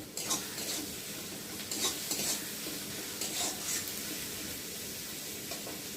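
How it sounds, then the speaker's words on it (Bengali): Cumin paste and green chilies frying in a pan for a fish curry, a soft sizzle under intermittent stirring clinks and scrapes of a utensil against the pan, fairly quiet and close. "তারপর দিয়ে দেবো জিরে বাটা, দিয়ে দেবো কাঁচা লঙ্কা, দিয়ে মশলাটা বেশ ভালো করে ভেজে নেব।"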